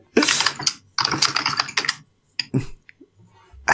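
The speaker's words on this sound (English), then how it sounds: "Maybe just type Graham." Quick bursts of typing on a computer keyboard while playing the adventure game King's Quest II, keystrokes clattering in clusters with short pauses between them, close and fairly loud.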